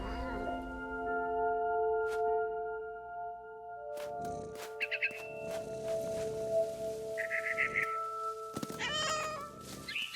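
A cat meows repeatedly in the video game What Remains of Edith Finch, with short, fairly close mews over a sustained musical drone and soft game ambience.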